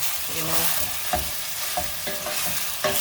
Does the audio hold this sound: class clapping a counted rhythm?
no